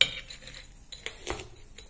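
Roasted peanuts being crushed with a drinking glass while making sesame-jaggery tilgul ladoos, giving a few faint, sharp knocks and scraping clinks against a plate or bowl at close range, with no talking.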